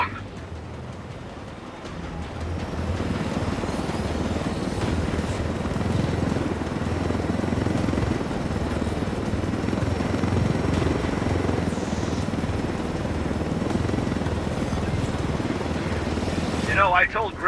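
Helicopter rotor and engine drone in the video game Ghost Recon Wildlands, a steady low rumble that swells after the first couple of seconds and holds, with voices talking over it.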